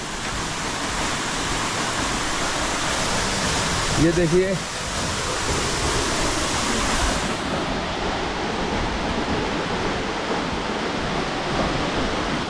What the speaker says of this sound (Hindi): ये देखिए कितना खूबसूरत झरना है ये।